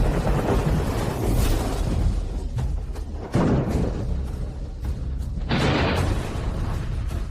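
Thunder and lightning effect for a cultivation-fantasy heavenly tribulation, heard as loud, continuous rumbling booms and crackling bursts that swell and recur across the stretch, with no talk over them.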